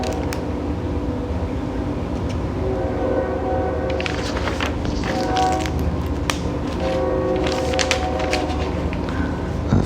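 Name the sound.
distant train passing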